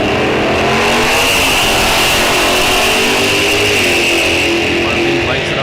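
A 1974 Pontiac GTO and a 1968 Chevelle J-Stock automatic launching side by side in a drag race at a raceway, a loud sustained engine roar with rising revs, close and overwhelming throughout.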